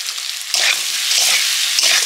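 Cumin seeds frying in hot oil in a pan for a fish curry, a steady loud sizzle that swells sharply after the seeds go in and holds bright and crackling throughout.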